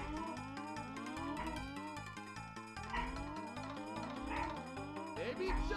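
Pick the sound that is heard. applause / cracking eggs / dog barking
dog barking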